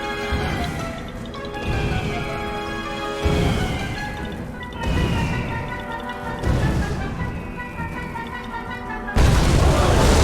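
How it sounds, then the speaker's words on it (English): Missiles explode one after another during a boss fight in the Puppeteer video game, heavy booms landing roughly every second and a half over sustained musical tones, with a louder burst at the end. "Lord firing missiles. Above you! Dodge them all!"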